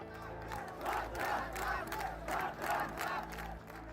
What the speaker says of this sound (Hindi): खूब नारे लगे।